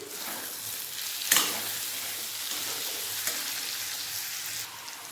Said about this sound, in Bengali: পেঁয়াজ আদা রসুন ভালোভাবে বেজে নিয়েছি এর মধ্যে দেবো একটা টমেটো কুচি